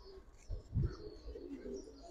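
Giribaz flying-line pigeons give a few soft, low coos in quick succession, faint and close, with quiet room noise in between.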